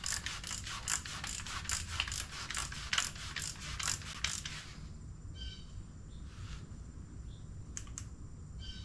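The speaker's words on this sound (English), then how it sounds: "Torquing down the clutch now." Ratchet wrench torquing down a motorcycle clutch, giving a rapid run of close, crisp clicks that stops partway through, leaving quiet room tone with a few faint knocks.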